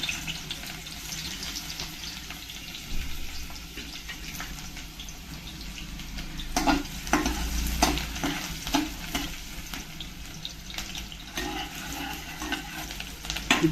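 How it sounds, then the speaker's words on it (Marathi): Chopped onion dropped into about two spoons of hot oil as tempering for a cowpea and potato curry, a lively sizzle and crackle with stirring and scraping, rising in bursts midway and then settling into a steady fry. "आता त्याच्यात कांदा टाकूया"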